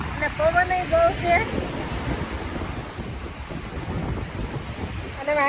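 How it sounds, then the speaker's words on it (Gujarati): Strong wind buffets the microphone at a seashore near a ship-breaking yard, a loud continuous rushing roar, with a voice talking at the start and the end. "અને પવન બહુ છે."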